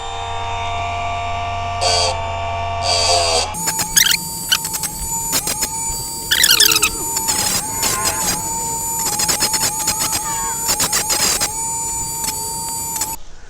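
An electric chain sharpener grinds a chainsaw chain, its motor humming steadily as repeated harsh grinding squeals come in short irregular bursts, loud and close.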